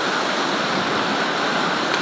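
Steady, loud rushing cascade at Bout du Monde, a broad continuous roar of falling water without pauses or voices, filling the whole stretch.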